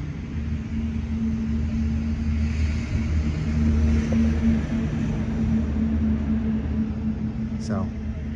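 A 1967 Pontiac GTO with a numbers-matching engine and four-speed idles smoothly, a steady low rumble holding even throughout, with a faint brief chirp near the end.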